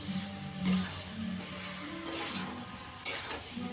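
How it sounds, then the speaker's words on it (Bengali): Shrimp curry mixture being stirred in a pan, giving three short scraping, sizzling strokes against the metal at a fairly quiet level. "সব ভালো করে মিশিয়ে নেব"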